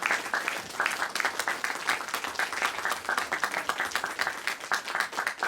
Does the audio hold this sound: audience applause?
yes